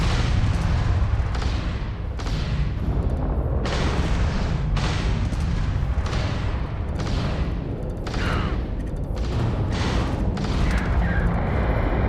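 Weapon fire in the Starfield video game, a weapon with a slow fire rate: heavy booming shots repeat about every second over a constant loud rumbling background.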